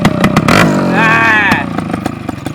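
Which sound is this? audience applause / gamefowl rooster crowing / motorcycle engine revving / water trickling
motorcycle engine revving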